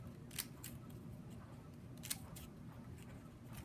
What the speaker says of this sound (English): I happen to have the Martha Stewart fringe scissors, and I do like the way these cut